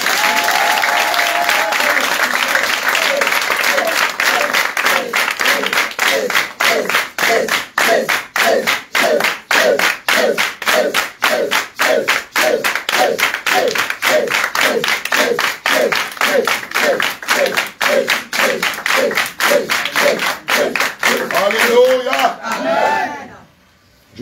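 A church congregation at a deliverance service claps in a loud, steady rhythmic beat for over twenty seconds, with crowd cheers and shouts mixed in before the clapping stops abruptly.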